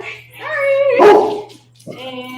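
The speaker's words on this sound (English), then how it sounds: "Sorry for the dog bark." A dog barks close by indoors in a live Pilates class, giving a drawn-out whining yelp that breaks into a sharp bark, then a shorter yip, over a steady low hum.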